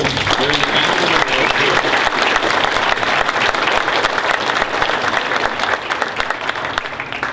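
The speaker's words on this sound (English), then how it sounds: "Let's give them a round of applause." Audience at a community gathering gives a sustained round of applause, dense overlapping clapping filling the room loudly and evenly for several seconds, with a few crowd voices mixed in.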